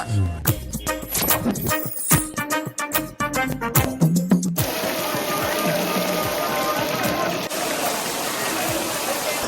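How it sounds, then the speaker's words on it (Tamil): Steady rain falls around Mangalore harbour, a dense continuous hiss that takes over after a few seconds of louder, choppier sounds and voices at the start, holding an even level to the end. "சுற்றி மழை பெஞ்சிக்கிட்டு இருக்கு."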